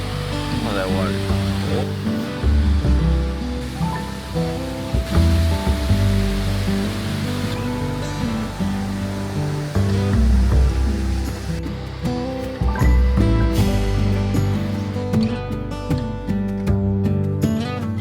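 A waterfall on a Pacific Northwest hiking trail rushes steadily and loudly as a broad, constant roar, with music and a voice layered over it throughout.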